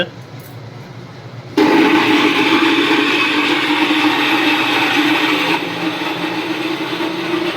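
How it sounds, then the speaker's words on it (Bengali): A kitchen mixer grinder starts up and blends cooled fried onions into a paste, a loud steady whirring drone that continues close by, easing slightly in the final seconds. "মা মিক্সিতে বসিয়ে দিল, এখন মিক্সিতে পেস্ট হচ্ছে।"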